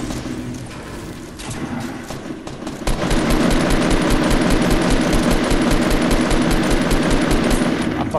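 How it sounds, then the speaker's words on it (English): Rapid automatic gunfire in a first-person shooter video game, a steady rattling stream of shots that starts quietly, then turns loud and continuous for the last five seconds, with no talking. "I'm fucking shooting through walls and shit to try to help you"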